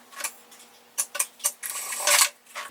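A sewing machine stitching a seam in fabric for a small cloth card wallet, heard as quiet short bursts of rapid stitching separated by pauses, with a faint steady hum underneath.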